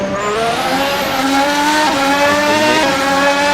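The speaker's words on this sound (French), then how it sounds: "l'accélération extrêmement puissante" A 2025 Ferrari Formula 1 car accelerates hard with a loud, high-pitched engine scream that climbs steadily in pitch. It sounds continuous and intense, with no voices.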